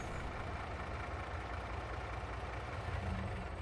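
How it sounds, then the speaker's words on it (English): Tractor engine idling in Farming Simulator 22 on a Saskatchewan farm, a steady low diesel rumble with a constant throb, close and continuous with no voices. "Save some fuel, turn the engine off."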